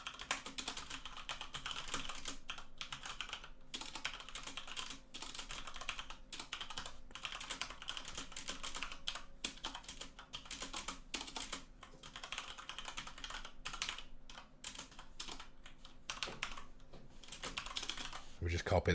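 Rapid computer keyboard typing while coding a Minecraft project, continuous bursts of close clicking keystrokes with brief pauses, a voice speaking faintly underneath at times.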